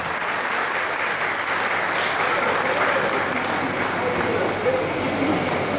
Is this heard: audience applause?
yes